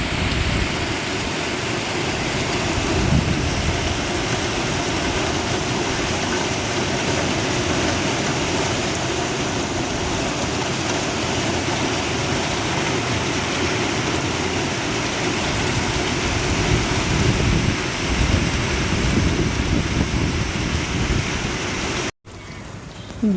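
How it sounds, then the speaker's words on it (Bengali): Heavy rain pours onto a waterlogged street in a loud, dense, unbroken roar that fills nearly the whole stretch before cutting off briefly near the end. "ভীষণ জোর বৃষ্টি হচ্ছে।"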